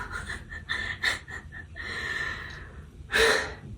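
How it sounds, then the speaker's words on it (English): Heavy panting of a person out of breath, with several quick breathy gasps followed by a longer exhale and a louder sharp gasp near the end, close and alone without talk. "I'm out of breath"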